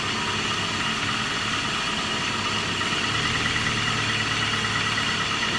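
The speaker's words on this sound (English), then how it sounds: "There goes the compressor." A car engine idling steadily with a low rumble, then a subtle rise in the drone midway as the A/C compressor engages, no talking.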